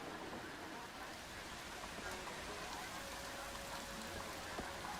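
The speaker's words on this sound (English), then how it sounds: "the rain's starting to let up" Steady rain falls in the video game Planet Coaster 2 as a dense, even hiss that stays constant throughout, with a faint voice murmuring underneath.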